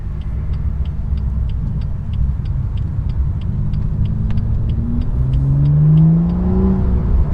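A BMW M2 with the N55 engine and M Performance exhaust drives through a tunnel, its low rumble echoing close and loud, then rises in a strong rev as it accelerates near the end, with a steady ticking in the background.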